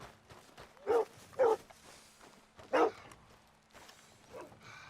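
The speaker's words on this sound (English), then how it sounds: "And then he's kind of outside of town here, barking at nothing, strangely." A dog in Red Dead Redemption 2 gives three loud, distinct barks, two close together and a third after a pause, followed by a fainter yip over quiet outdoor game ambience.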